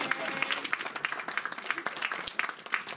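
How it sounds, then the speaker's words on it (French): A church congregation applauds during a sermon, dense, lively clapping with crisp individual hand strikes filling the space, loud and continuous throughout. "Donnons une acclamation."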